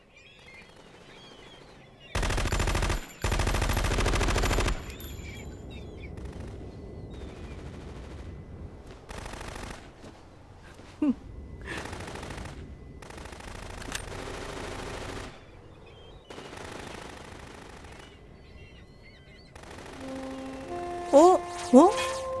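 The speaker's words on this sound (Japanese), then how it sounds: "めっちゃ銃声聞こえる" In the Metal Gear Solid 2 video game, bursts of machine-gun fire come through from moderately far away, a few loud volleys followed by scattered quieter shots over low ambient game sound.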